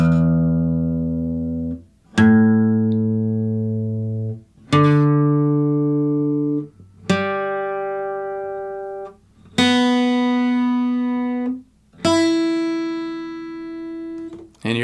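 Six open strings of an acoustic guitar are plucked one at a time for tuning, each note ringing out clearly and decaying for about two seconds before the next, moving from low to high.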